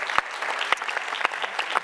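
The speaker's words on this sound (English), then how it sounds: "Please give them another round of applause to all the finalists we had." Applause for the finalists at a social innovation pitching tournament, a few sharp loud claps standing out over a dense patter of hands from a seated audience, brief and without talk.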